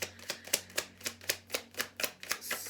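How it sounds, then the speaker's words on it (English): Cards being pulled from a deck in a rapid run of crisp flicks and snaps, about a dozen evenly spaced sharp ticks close to the listener with a faint low hum underneath and no talking. "I'm going to pull a couple more cards here"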